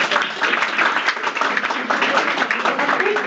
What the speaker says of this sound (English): A big round of applause for all the participants